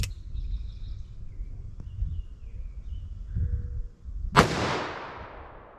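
A single loud .44 Magnum gunshot with a 240-grain load from a 4-inch barrel, a sharp crack near the end of a quiet stretch, followed by a ringing decay.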